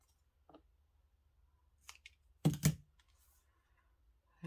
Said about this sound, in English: I am gonna just very carefully snip those